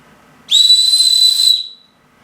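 A piercing, high-pitched survival whistle from a Gerber kit sounds in one sustained blast of about a second before stopping.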